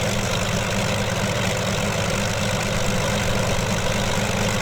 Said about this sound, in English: setting the throttle to idle around 1000 RPM.